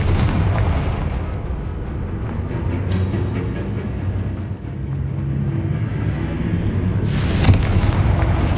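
The Confringo blasting spell in Hogwarts Legacy sounds as a loud, continuous rumble of booming blasts, with a sharper burst near the end.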